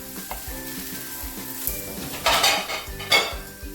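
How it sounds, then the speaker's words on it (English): A vegetable side dish is stir-fried in a pan, with a soft sizzle under repeated metal scrapes and clinks of a spatula. The strokes come close, and a few sharper clatters stand out near the end. "Now mix all together. Stir fry for a few minutes"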